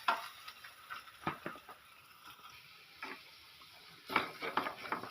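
Mashed potato is stirred into a masala in a pan for a semiya bonda filling, with faint scraping strokes and light ticking taps of the spoon over a low sizzle.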